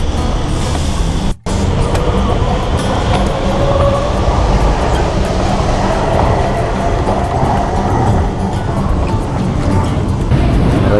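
A Taipei MRT red line metro train rumbles steadily and loudly throughout, with a continuous low roar, one very brief dropout near the start, and a faint tonal whine midway.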